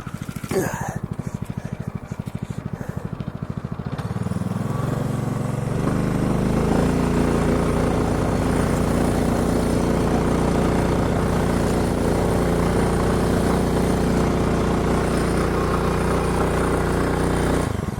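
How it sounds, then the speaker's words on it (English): A weak small engine on a motorized drift trike with studded tires sputters and then settles into a loud, steady drone close by, with no talking. "the engine was just too weak to spin the studded tires with me on it"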